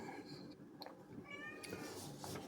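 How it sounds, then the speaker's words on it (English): A cat meows several times in the background, faint and somewhat distant, over a low room hum. "Never mind the cat in the background."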